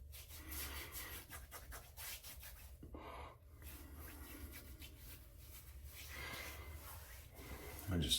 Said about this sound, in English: I just get it all over when I apply this splash.